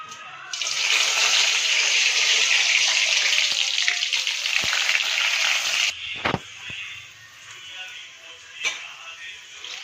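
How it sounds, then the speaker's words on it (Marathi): Whole spices drop into hot oil for a paneer masala, setting off a loud, bright crackling sizzle that runs steadily for about five seconds. The sizzle then dies down, leaving quieter pops and a few knocks. "चला आता ते तेल तापलंय, त्याच्यामध्ये पहिला खडा मसाला टाकू"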